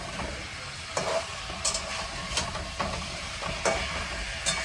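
Chicken fries over high heat in a pan, a steady loud sizzle with a few sharp stirring scrapes and bursts at intervals, no voices.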